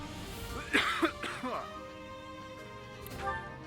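A person coughs a few times in quick, rough bursts close to the microphone, then gives a softer throat-clear during a pause in a video game commentary. No words are spoken.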